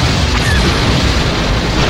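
A loud, dense explosion as the shuttle Poltroon is destroyed in the space-combat game TIE Fighter, a sustained roaring boom with crackling debris filling the whole moment without pause.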